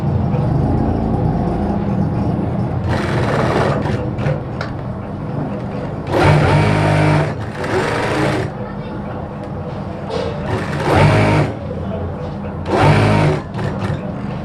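Sewing machine stitching a side pocket onto a kameez, its motor whirring in several loud bursts of about a second each between quieter pauses, with speech over the machine.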